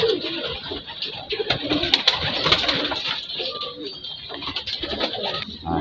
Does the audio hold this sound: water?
no